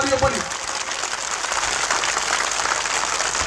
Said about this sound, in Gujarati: આ ગામ માટે એકવાર જોરદાર તાળીઓ પાડીએ, જોરદાર તાળીઓ પડવી જોઈએ.